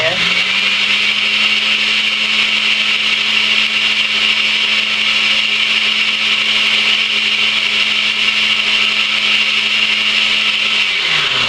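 A blender whirs chocolate almond milk in one loud, steady drone close by, its motor holding an even pitch for about eleven seconds before cutting off at the end.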